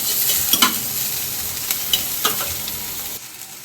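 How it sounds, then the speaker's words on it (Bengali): Chopped onion and nigella seeds frying in a wok, a steady close sizzle with a few sharp stirring scrapes, cutting off abruptly near the end. "এদিকে আমি কড়াইয়ে কালো জিরা দিয়ে দিলাম আর একটু পেঁয়াজ কুচি দিয়ে দিচ্ছি"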